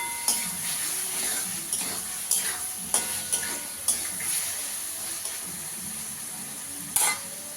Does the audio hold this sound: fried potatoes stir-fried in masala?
yes